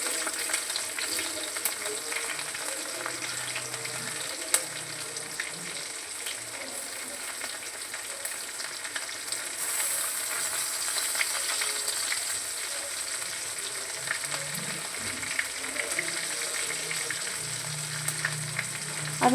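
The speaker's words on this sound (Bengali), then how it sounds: "লঙ্কাগুলো কুচিয়ে দিয়ে দিচ্ছি।" Chopped green chillies fry in a pan alongside sliced onions, a steady close hissing sizzle with light crackle and occasional faint stirring knocks, continuing evenly without talk.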